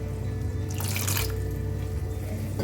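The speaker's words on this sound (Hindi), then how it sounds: "टू टेबल स्पून पानी डालूंगी यहाँ पे" A small amount of water, about two tablespoons, poured into a cooking pan of spiced tomato masala on the stove, a brief splash over steady kitchen hum and sizzle, no talking.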